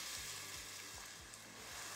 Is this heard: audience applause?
no